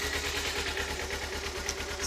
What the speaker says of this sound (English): you can see it's idling low right now until it warms up